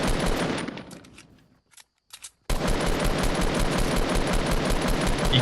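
Rapid automatic gunfire in the video game Fortnite, loud and continuous bursts that cut out briefly for a second of near silence, then resume as a sustained stream of shots.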